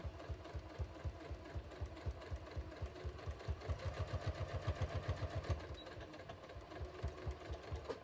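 A sewing machine runs in steady bursts, stitching around the waistband of a pair of shorts at a half-inch seam, its rapid needle chatter close and clear with a short slowdown near the end.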